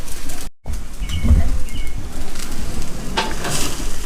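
New York strip steaks sizzling loudly in a hot pan, a steady crackling hiss broken by a short gap near the start, then resuming with bursts of spattering as the meat is turned.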